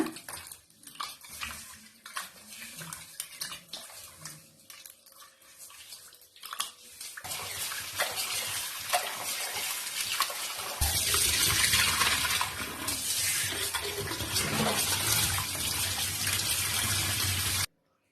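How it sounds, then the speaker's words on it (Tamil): Goat intestines being squeezed and washed by hand in water, with soft irregular sloshes and splashes at first, then a steadier, louder rush of pouring or running water that cuts off abruptly at the end. "கையை விட்டு இது மாதிரி நல்லா கசக்கி பிழிஞ்சு கிளீன் பண்ணுங்க."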